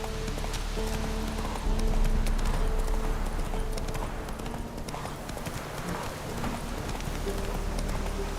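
Roach, Geralt's horse in The Witcher 3, gallops in a steady, rhythmic pounding of hooves, close and continuous, over a low ambient drone with a soft patter like rain in the background.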